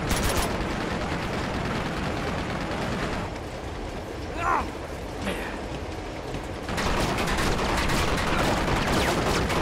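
Dense, steady gunfire from the Uncharted 2 video game as shots hit a train, with rapid overlapping bursts filling the clip and people talking over the shooting.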